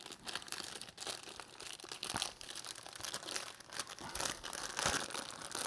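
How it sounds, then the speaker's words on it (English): A plastic grocery bag is opened by hand, giving a steady, quiet crinkling and rustling of thin plastic with small sharp crackles, close by and without speech. "So we're opening up this plastic bag."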